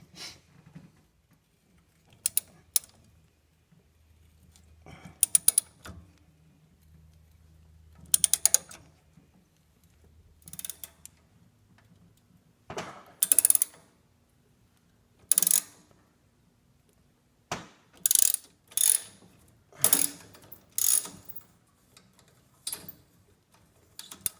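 A rusted nut is worked loose and twisted off a bolt, giving a series of separate metallic creaks and ratchet-like clicks in uneven bursts with quiet gaps, close up and without speech.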